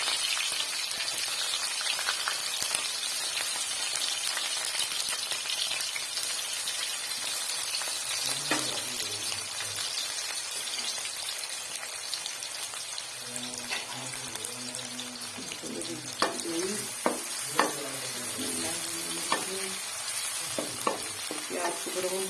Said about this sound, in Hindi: कढ़ाई ले जी, यहाँ पे प्याज डालने लगी